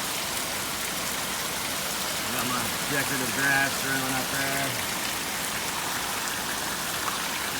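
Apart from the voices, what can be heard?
heavy rain pouring down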